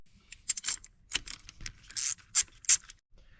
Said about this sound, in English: This takes a 10mm socket.